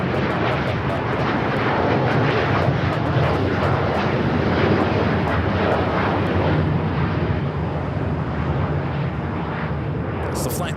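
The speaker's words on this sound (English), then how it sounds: "Got that Japan Airlines Dreamliner taking off here on the south side." A Japan Airlines Boeing 787-9 Dreamliner takes off from the south side of Los Angeles LAX airport with a continuous, loud, rumbling jet roar that holds steady throughout.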